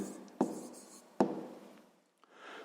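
A pen or pencil scratches out an answer to a sixth-grade math problem on paper, with two sharp taps followed by soft, close scribbling strokes.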